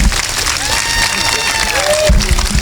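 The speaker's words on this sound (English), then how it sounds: "Let's give Mr. DeMundo a big round of applause" A crowd applauds loudly and close by, clapping mixed with chatter, whistles and rising cheers, with a few heavier thumps near the end.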